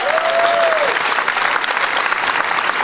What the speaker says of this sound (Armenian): շնորհակալություն ձեր ծափահարությունները։